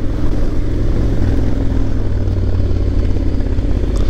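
A Honda X-ADV motorcycle ridden in Pattaya, Thailand, slows down with a steady, close engine rumble and wind noise and no clear changes in pitch.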